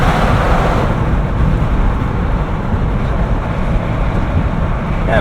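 A 2017 Jeep Wrangler Unlimited with a manual gearbox cruises at 70 mph around 2,000 RPM. Steady, loud, broadband road and wind roar fills the cabin with a low engine drone underneath and no talking.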